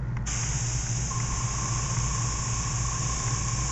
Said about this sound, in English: I'm going to go back in and spray over some of those details a little bit darker now